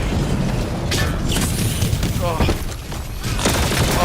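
Game airstrike explosions pound in a steady low rumble with a few sharper bursts, mixed under intermittent talk for several seconds.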